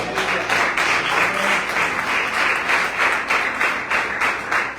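A church congregation applauds during a pastor's evening sermon, loud, sustained clapping from many people that swells and pulses rhythmically, filling the room close and strong for the whole stretch.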